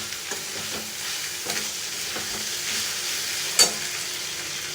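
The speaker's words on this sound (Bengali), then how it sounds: "টমেটোটা দিয়ে আমি ভালো করে নাড়ি চাড়িয়ে নিলাম" Chopped tomato stirred into chicken keema masala frying in a pan, a steady close sizzle broken by spoon scrapes and one sharp clink near the end, with no voices.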